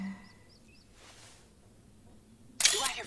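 A camera shutter clicks once, sharp and loud, while a hunter frames a photo in theHunter: Call of the Wild, with faint birdsong and quiet outdoor ambience before it.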